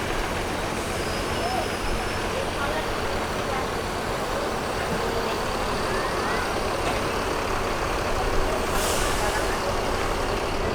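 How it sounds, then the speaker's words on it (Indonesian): Lantra Jaya and Putra Rafflesia buses idle side by side at Kampung Rambutan terminal, giving a steady, loud diesel engine rumble that runs throughout with a brief hiss near the end. "suara mesinnya mantap. Bus Lantra Jaya dan di sampingnya bus Putra Rafflesia ini."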